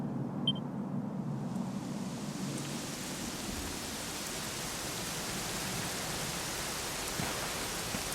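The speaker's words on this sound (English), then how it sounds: "it was raining like this the last time I ever saw her" Rain falls steadily in Dragon Quest XI on PS4, a soft even hiss that lasts throughout with no voices.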